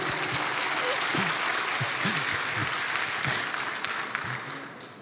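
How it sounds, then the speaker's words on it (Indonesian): Sustained audience applause at a Muslim business seminar, a broad steady wash of clapping filling the room that gradually fades near the end, with a voice speaking faintly underneath. "Berikan aplaus untuk kita semua."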